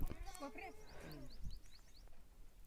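Goats bleating in short wavering calls, fairly close, with a voice talking over the first part and faint chirping in the background.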